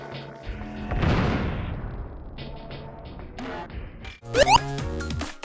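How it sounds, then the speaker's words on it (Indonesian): A video-game fart blast bursts with a loud boom and crash, followed by scattered thuds and debris, then a sharp burst of clattering impacts near the end. "Pas dilepas kendalinya, kentut AB akan meledak dan merusak apapun yang ada di sekitarnya"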